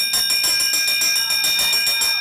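Bell rung repeatedly for the final lap of a speed skating race at a US championship, a rapid, steady ringing that stays loud throughout with no talk over it.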